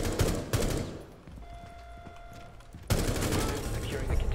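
Gunfire in the tactical shooter game Rainbow Six Siege, loud bursts of rapid shots near the start and again after a short lull, with dense firing continuing to the end.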